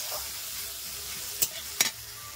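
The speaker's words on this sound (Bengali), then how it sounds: "তো গাইস দেখো প্রথমে পেঁয়াজটাকে ভেজে নিচ্ছি ডিমে" Onions and green chillies frying in a pan for an egg dish, a low steady sizzle close by, broken by two quick metallic scrapes of a spatula near the end.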